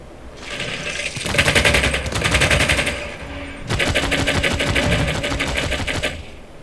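Rapid mechanical bursts of machine-gun fire from a machine gun corps unit in Civilization VI, two sustained rattling volleys separated by a short pause, loud and close with no talking.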